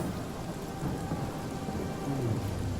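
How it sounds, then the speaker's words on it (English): Steady rain pours in Divinity Original Sin, a dense, even hiss with low rumbling undertones, continuous and fairly loud with no voices. "it's raining, so rain wouldn't be great for it"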